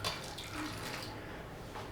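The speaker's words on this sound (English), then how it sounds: "So empty the milk into this" Milk being poured into a steel bowl gives a brief, quiet, splashing stream that fades slightly as it settles, heard close with no speech.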